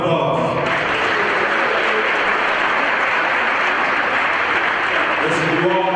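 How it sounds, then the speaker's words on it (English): An audience at a community conversation event claps throughout, a loud, dense wash of hands with faint voices and cheers mixed in near the start and end. "So give yourselves a round of applause."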